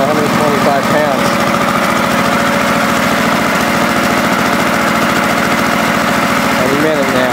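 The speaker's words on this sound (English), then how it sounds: "That compressor's running real good. You can hear it's at idle now, and in a minute it'll kick up again once it gets down to 125 pounds." A gas-powered air compressor idles steadily and loudly throughout, a continuous mechanical drone with a rhythmic pulse, run for sandblasting motorcycle parts.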